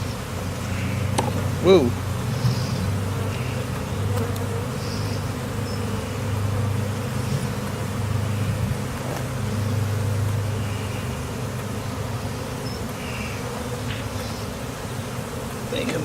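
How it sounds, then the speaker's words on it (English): Honey bees swarm around an opened backyard hive with a steady, close droning hum, while a person briefly exclaims and talks quietly nearby. "Alright, they're getting real pissed."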